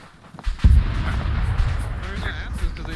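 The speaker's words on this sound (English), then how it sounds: "We may have enemy mortars in the AO." Mortar rounds land in a video game set during Operation Urgent Fury in Grenada, with a USMC grenadier. One heavy, booming impact hits close and loud, then a low rumble trails off, with faint voices beneath.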